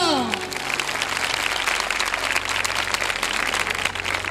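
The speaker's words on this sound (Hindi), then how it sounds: "जोरदार तालियां" Loud, steady applause from a crowd at a children's chapel ministry gathering, dense clapping filling the whole stretch without a break, with a brief tone fading at the start.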